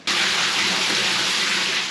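Tank water gushes from a hose on an Australian sheep farm, starting abruptly and then running as a steady, loud, close hiss with no voices.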